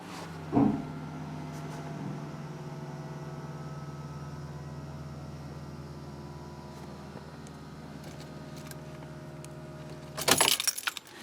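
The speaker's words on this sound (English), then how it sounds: "Now we can hit start, and you hear the fuel pump prime." An electric fuel pump primes on a Sniper EFI system during a carburetor-to-fuel-injection conversion: a click, then a steady, even whirring hum for about ten seconds, ending in a short burst of clatter.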